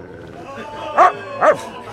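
Two sharp barks from the red dog in the film Red Dog come close together in quick succession, loud against a quiet background with faint talk.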